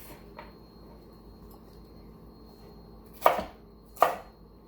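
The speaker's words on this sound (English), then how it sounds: "cut this into thick wedges and chop those in half" A knife cuts an eggplant into thick wedges on a board for ratatouille, two sharp, close chopping thuds near the end after a quieter tap at the start.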